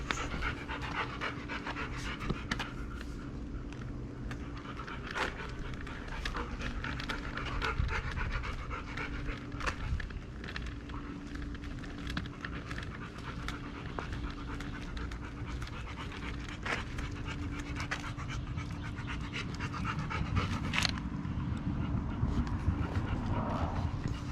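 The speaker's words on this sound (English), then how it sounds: "It's not me doing all the heavy breathing." Dog panting heavily and rapidly in a steady, unbroken rhythm, close and fairly soft, with low background hum and no talking.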